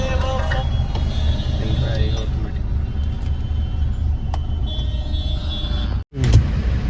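Constant low rumble of road traffic around a vehicle stuck in a jam on a road trip, with engine drone and brief horn-like tones; voices are faintly audible under the noise.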